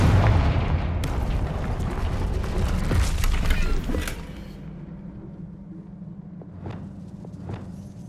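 Confringo spell explosion in Hogwarts Legacy, a heavy rumbling blast lasting several seconds before cutting to quieter game ambience with a couple of faint swishes.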